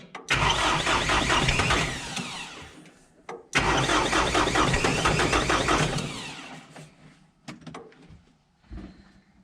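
A Kubota M9540 diesel tractor with starting trouble is cranked twice. Each loud, grinding crank lasts a few seconds, and the engine does not catch either time. Faint clunks follow.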